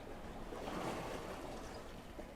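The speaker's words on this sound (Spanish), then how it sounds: "Me he quedado un poco en silencio para que escuches las olas" Ocean waves wash in a steady, soft, broadband rush, with one swell building and fading, and some wind noise with no voices.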